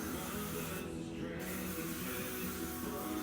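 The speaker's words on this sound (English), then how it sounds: "I spray my hair down." A short hairspray aerosol hisses onto hair in a steady burst, close and fairly loud, with a brief dip partway through.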